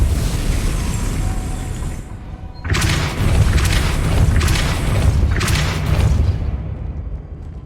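Depulso spell casts in Hogwarts Legacy, booming whooshing blasts repeating in a series of bursts over steady game ambience, with a short quiet gap before them.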